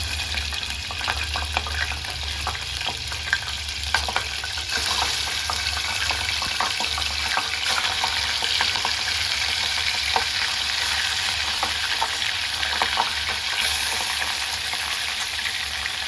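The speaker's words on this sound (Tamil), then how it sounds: "சிக்கனை எடுத்து டீப் ஃப்ரை பண்ணிக்கலாம்." Marinated chicken deep frying in butter over a high flame, a steady loud sizzle and bubbling that runs continuously with occasional stirring clinks and crackles, no voices.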